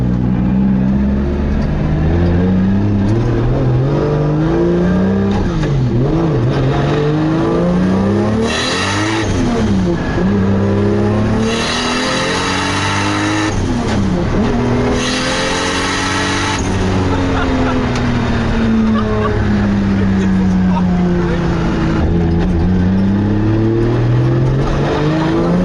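Turbocharged 1JZ engine in a Nissan 240SX (CD009 gearbox) drift car, revved hard repeatedly in long sweeping rises and falls, loud and close, with brief bursts of higher roar between pulls.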